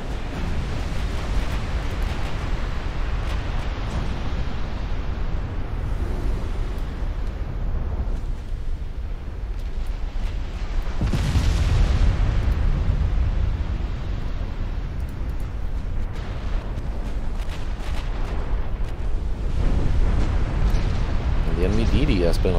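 Steady naval artillery fire in the warship game Ultimate Admiral Dreadnoughts, a continuous rumbling roar of distant booming salvos and explosions throughout, with louder swells in the middle and near the end, and talk heard over it.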